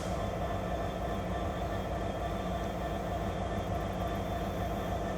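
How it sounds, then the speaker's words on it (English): A train rumbles steadily past close to a wooded trail, with a loud, continuous roar of railcars and wheels and a faint high whine running through it. "Train over here."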